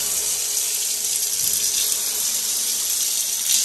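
Water pours steadily from a waterfall-style shower spout in a bathroom, a bright continuous hiss and splash close by that holds constant throughout.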